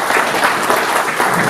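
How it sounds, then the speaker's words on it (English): A seminar audience applauds a guest speaker's assistant, steady, dense clapping filling the room at close range throughout the short burst with no speech over it. "I'll let them give him a nice round of applause for coming out here today"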